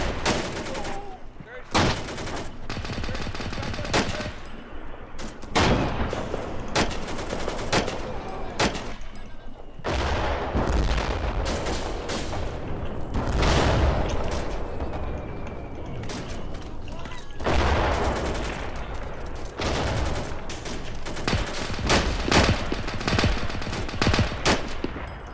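Dense gunfire from an Arma 2 cooperative D-Day mission, with sharp rifle and machine-gun bursts and repeated loud reports over about 25 seconds, some shots close and punchy, others more distant, amid battlefield noise and shouted voices.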